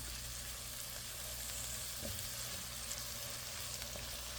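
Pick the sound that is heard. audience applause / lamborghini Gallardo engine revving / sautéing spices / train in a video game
sautéing spices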